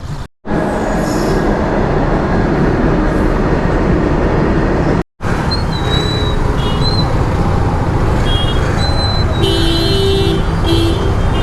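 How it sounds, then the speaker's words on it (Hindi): Trains roll past a railway level crossing, one after another, with loud continuous rumble and clatter of wheels on track, brief high wheel squeals and a short horn-like tone near the end, all close by. "एक्चुअली एक ट्रेन जो अभी आपने वीडियो में देखी, उसके बाद एक दूसरी ट्रेन फिर से निकली"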